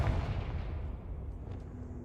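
A Confringo explosive spell blasts in Hogwarts Legacy as a single deep, booming burst. It decays over about two seconds with a faint rumbling tail.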